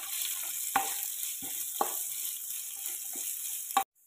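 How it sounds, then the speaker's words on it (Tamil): Sliced large onions sautéing in a pan for an egg gravy, a steady soft sizzle broken by a few distinct scraping strokes of a spoon, close by, ending abruptly. "இப்போ வெங்காயம் வந்து நல்லா வதக்கி விட்டுடலாம்"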